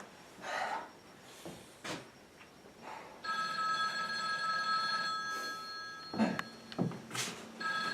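An old telephone bell rings close by in one sustained metallic trill lasting a few seconds, surrounded by breathy sounds and small movement noises.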